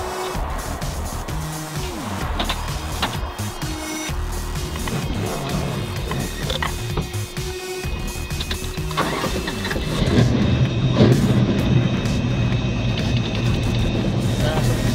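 A 1971 Dodge Challenger R/T with a 440 big-block V8 cranks over and fires, then settles into a loud, throaty idle that swells in the final seconds.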